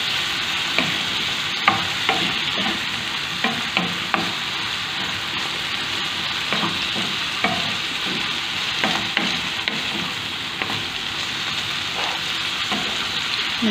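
Chicken and eggplant sizzle steadily in a frying pan while a utensil stirs them, scraping and knocking at an irregular rhythm over a constant loud hiss, with no talking.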